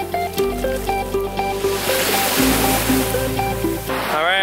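Steady rushing surf at a beach in Taiwan fills the background while a melodic tune plays on top, continuous and fairly loud throughout.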